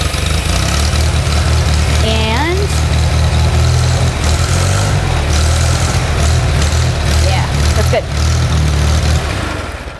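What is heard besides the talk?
Farmall tractor engine starting and idling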